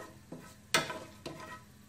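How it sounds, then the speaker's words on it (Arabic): Whole spices stir and sizzle in a small amount of hot oil for chicken kabsa, a faint crackle broken by three scraping stirs of the spoon, the middle one loudest. "عندما يسخن الزيت قليلا نضع البهارات الكاملة، نحرك قليلا حتى نشم رائحة البهارات."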